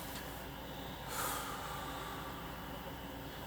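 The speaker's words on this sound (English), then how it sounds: "we have to let the patient exhale all the air out" A person demonstrates a full exhale before using an incentive spirometer: one soft, breathy rush of air, faint and close against a quiet room hiss.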